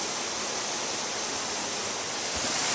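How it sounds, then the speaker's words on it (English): Steady, full roar of a waterfall seen from an overlook on a hike near Olympiada, Greece, a constant broadband rush of falling water with no pauses and no voices. "there is the bottom of the falls"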